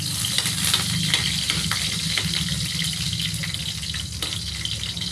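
Garlic frying in hot oil, a loud, dense, continuous sizzle with crackling spatter close up and no talk.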